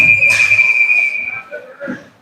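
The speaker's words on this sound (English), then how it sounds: "As we get a whistle here with an offside." A referee's whistle in a youth ice hockey game, one sharp sustained blast for offside lasting about a second, with a commentator talking over it and arena noise behind.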